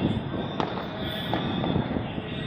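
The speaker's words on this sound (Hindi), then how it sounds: "पटाखा फोड़ना है और जम के फोड़ना है" Diwali firecrackers burst across a night city scene in Ranchi, a dense continuous crackle of distant pops with a few louder nearer bangs standing out.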